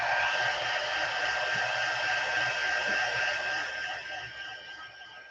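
A dryer blows a steady, loud rushing stream of air over a sticky, freshly worked mixed media artwork, holding an even roar for several seconds before easing slightly toward the end, with no talking.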